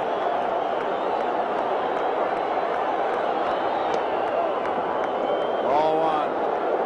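A baseball crowd in the 9th inning of Game 6 of the 1980 World Series, a steady stadium roar with a surge toward the end, heard under a broadcast announcer.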